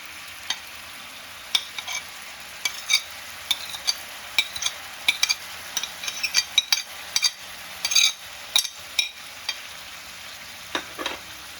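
A paste of ginger, cumin, tomato and cashew is stir-fried in a pan: a soft sizzle runs under repeated scraping and light clinking strokes of a spatula, irregular and close.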